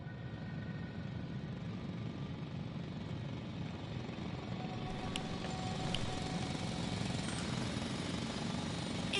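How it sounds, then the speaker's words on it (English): A heavy drill grinding away inside a sci-fi video game scene, a loud steady roar of mechanical noise that holds for the whole stretch, with a few sharp metallic clanks near the end. "It's a drill."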